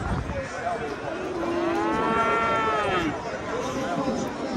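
Cattle lowing loudly at a busy livestock bazaar in Bog'dod, one drawn-out moo rising and falling over crowd murmur and wind noise, with sheep and other animals around.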